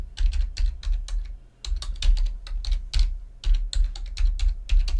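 Someone types a password on a computer keyboard: quick, close clicks in uneven bursts with a short pause midway, crisp and dry with no voices.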